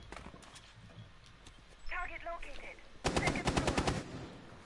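Rapid burst of pistol gunshots in Rainbow Six Siege, a tight run of sharp cracks following a short chirping game cue, loud and close with commentary voices around it.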